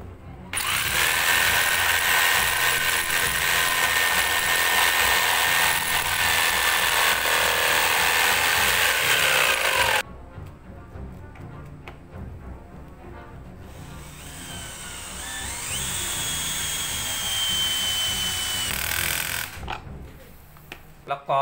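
A power drill on a homemade belt sander built from a fan motor whirs loudly for about ten seconds, stops, then runs again with a rising whine; a voice talks briefly between bursts.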